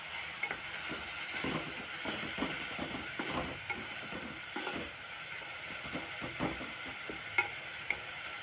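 Tomatoes sauté in a pan for a drumstick thokku, with clicky, rattling stirring strokes over a soft, continuous sizzle.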